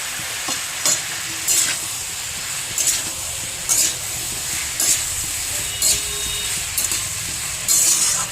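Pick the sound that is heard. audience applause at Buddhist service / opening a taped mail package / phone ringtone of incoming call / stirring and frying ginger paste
stirring and frying ginger paste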